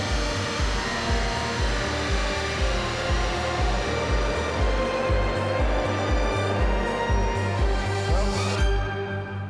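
An electric-converted VW Beetle spinning its wheels at high speed on a rolling road, producing a loud sustained motor whine with a rhythmic low pulsing throughout.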